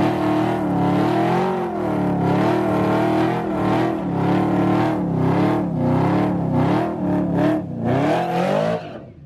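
Street racing spot: a car holds a long, loud, close burnout, engine revving and wavering in pitch under constant tire noise, fading abruptly at the end.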